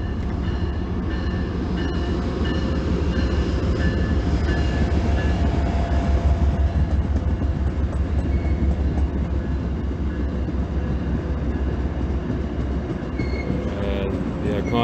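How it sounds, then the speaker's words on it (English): An iconic train rolls into town during a hometown parade in Ashland, a steady loud rumble of wheels and rail clatter that holds throughout. "Iconic train rolls into town."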